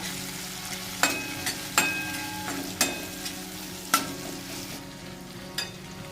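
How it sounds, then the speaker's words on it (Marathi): Turmeric is stirred into a sizzling dal tempering for Maharashtrian varan, a constant low frying hiss with a handful of spaced spoon knocks against the pan, close up and with no voices. "अर्धा चमचा हळद टाकू मस्त मिक्स करून घेऊयाला"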